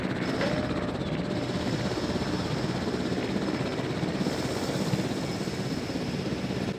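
A helicopter in Jurassic World Evolution drones steadily with a continuous rotor and engine roar, loud and close, with no speech.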